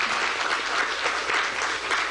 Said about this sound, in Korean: 격려의 박수 한번 보내주십시오.